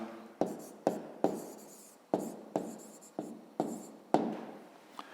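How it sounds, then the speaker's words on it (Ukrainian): A pen or pencil writes an answer for a fifth-grade math exercise on paper, about nine sharp strokes and taps in an uneven rhythm, close and fairly quiet with no talking. "Ну і записуємо тоді відповідь."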